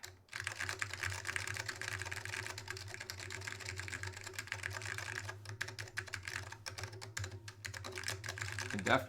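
Steady, rapid typing on an ADK64 mechanical keyboard with Alps switches and Apple AEKII keycaps, a faint metallic spring ping, continuing throughout under a constant low background hum.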